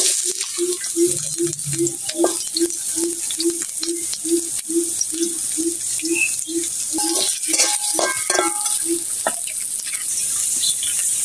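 Shrimp with spice paste frying in hot oil, a steady sizzle throughout with a regular series of soft bubbling pops, and a few brief stirring clinks near the end, no talking.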